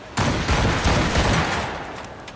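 Ship cannons fire a volley in a naval battle in the game Assassin's Creed Rogue: a sudden loud burst of booms rolls into a heavy, sustained rumble that slowly fades.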